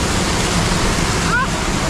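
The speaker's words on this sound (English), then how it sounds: "That's a good waterfall." Steady broadband rush of a waterfall pouring over a waterpark lazy river, constant and fairly loud throughout, with a brief faint voice sound partway through.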